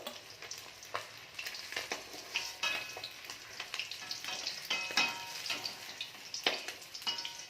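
Large pieces of katla fish fry in oil in a pan, a continuous crackling sizzle with frequent popping spatters, fairly quiet and close, with no voices.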